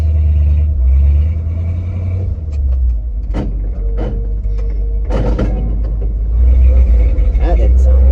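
A 1970 Ford 600 hay truck engine rumbles loud and close, its low drone swelling as gas is given, with clunks and mechanical knocks over the top.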